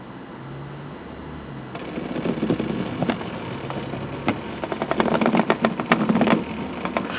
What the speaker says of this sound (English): we're going to move the engine back and forth a little bit without the sound